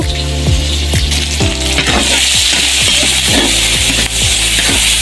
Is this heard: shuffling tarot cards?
no